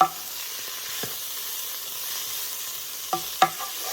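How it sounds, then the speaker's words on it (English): Chopped peppers stirred into birria brisket in a Ninja Foodi Possible Cooker Pro, a soft steady sizzle with a few sharp spoon scrapes, two of them close together near the end, no voices. "I'm just going to add this in. Give it a stir."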